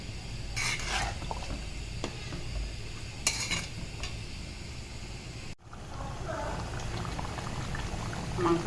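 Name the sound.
beef curry with spices cooking in a pot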